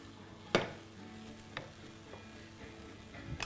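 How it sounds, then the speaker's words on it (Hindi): Apricots roast in a pan with a soft steady sizzle, and a few faint spatula clicks and scrapes come as they are stirred. "खुबानी की कर रहे हैं भुनाई"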